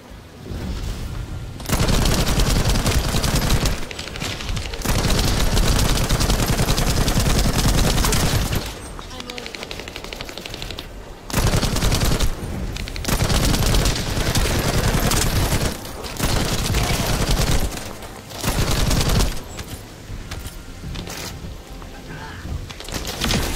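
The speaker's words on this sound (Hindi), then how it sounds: "हम यूज कर रहे हैं मशीन गन" Machine gun firing in the video game The First Descendant, long loud sustained bursts of rapid fire broken by short pauses, with a voice briefly heard between bursts.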